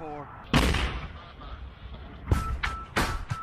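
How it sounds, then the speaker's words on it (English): Touchdown fireworks at a pyrotechnic show in eastern Tennessee: a sharp booming launch followed by several quick cracking bursts and pops, fairly distant and echoing, with faint voices in between. "Touchdown fireworks are one of the many types of pyrotechnic entertainment they shoot."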